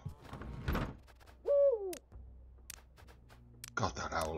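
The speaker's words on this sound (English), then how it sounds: "God, that owl is loud." In the game Robin Hood: Sherwood Builders, a loud owl gives one hooting, squawking call, set among faint clicks and door-like sounds.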